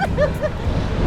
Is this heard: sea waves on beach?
yes